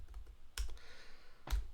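Typing on a computer keyboard while building an Excel dashboard, a few close, quiet key clicks with a couple of heavier strikes, spaced irregularly.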